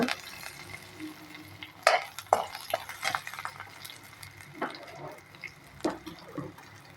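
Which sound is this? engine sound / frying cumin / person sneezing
frying cumin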